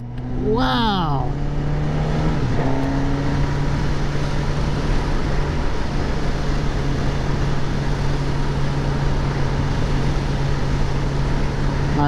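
A 2024 Suzuki GSX-S1000 GT's engine drones steadily while riding, with an early rising rev and a shift, then a constant hum under loud wind rush.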